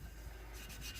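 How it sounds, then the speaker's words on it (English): Close scrubbing on the outer wall of a bell's power chamber during cleaning, a faint, continuous rough rubbing that lasts a brief moment with no voices. "So now I'll start kind of cleaning the outer wall of the power chamber. Basically, it's just a lot of scrubbing."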